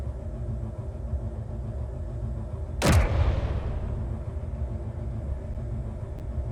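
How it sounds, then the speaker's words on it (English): Hydrogen tank blowing up during combat in the video game Space Engineers, a single sudden loud blast with a deep boom that trails off into rumble over a steady low engine drone. "I caught their hydrogen tank finally. What a beautiful explosion that was."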